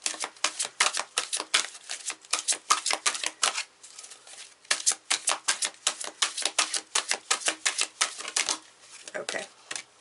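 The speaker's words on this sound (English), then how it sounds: "So let's just shuffle these together to see what happens." Tarot cards being shuffled by hand, a long run of crisp rapid riffling flutters in quick bursts, close and clear, with a brief pause midway and no talking.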